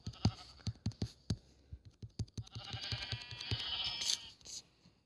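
A sheep's bleat rises over a series of rhythmic thumping footsteps or clicks, with a brief bright noise near the end; game-like and fairly quiet.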